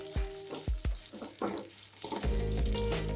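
Onions and green chillies frying in a pan with turmeric for masala dosa filling, being stirred: a few sharp spoon knocks on the pan, then a loud, steady sizzle up close.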